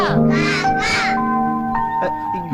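A few harsh crow caws ring out close by, rough and rising, followed by quieter calls trailing off.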